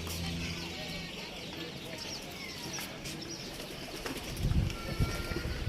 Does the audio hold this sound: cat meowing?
no